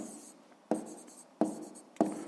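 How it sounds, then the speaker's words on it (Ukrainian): Handwriting during a sixth-grade math lesson, three separate bursts of scratchy pen-on-surface strokes, each starting sharply and trailing off, close and alone with no talking. "Давайте я тут напишу"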